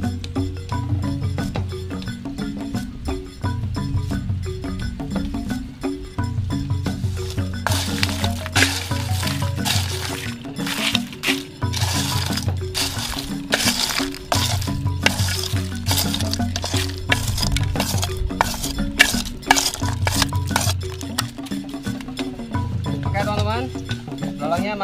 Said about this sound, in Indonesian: kita harus dengar bunyi si minyak ini teman-teman